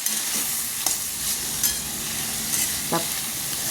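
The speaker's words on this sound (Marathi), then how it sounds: "आता मीठ टाकल्यानंतर पुन्हा मिक्स करून घेणार आहे व अजून 5 मिनिटं आपल्याला ही शेंग मिठामध्ये चांगली परतून घ्यायची आहे" Ghevda bean pods being sautéed with salt in a pan, a steady close sizzle running throughout with a few soft scrapes of stirring and no voices.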